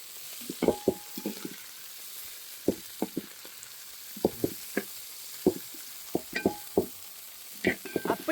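Roasted okra stirred in a dry pan for a Tamil okra chutney, giving a series of distinct scraping and clattering strokes at an irregular pace, close up and fairly quiet, with no talk.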